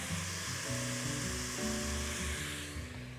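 Tomato sauce sizzles steadily in a pot while okra is being cooked, a soft continuous hiss with gentle bubbling underneath and no talking.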